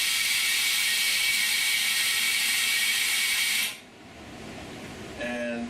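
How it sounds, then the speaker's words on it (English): A vacuum pump on an OCA and polarizer laminating machine whirs steadily and loudly, then cuts off abruptly, leaving a quieter hum before a brief tonal whine near the end. "Here's the vacuum."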